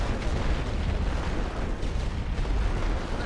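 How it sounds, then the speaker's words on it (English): Heavy artillery fire in the video game The Great War: Western Front, a dense continuous rumble of explosions and booms with no talk over it. "then I'll start with some artillery"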